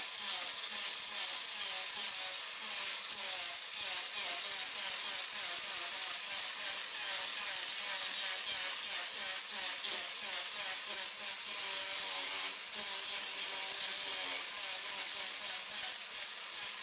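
A lathe tool cutting away the shoulder of an olive burl wood blank, a continuous scraping, hissing cut with a rough, pulsing texture that holds steady throughout.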